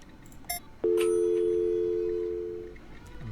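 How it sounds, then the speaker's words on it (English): A massive rotary dial phone in the video game Encased gives a single continuous electronic beep that starts abruptly, holds steady for about two seconds, then fades, alone against quiet background sounds. "A massive rotary dial phone. You hear a continuous beep."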